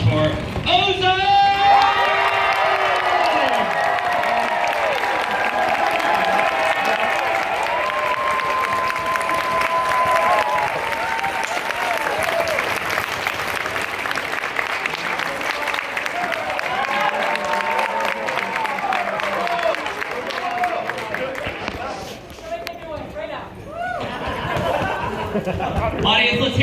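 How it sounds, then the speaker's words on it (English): Sustained audience applause and cheering greet Ozone, first-place winner of a dance competition, loud and continuous with shouts, whoops and voices mixed in throughout. "can I get a large round of applause for Ozone?"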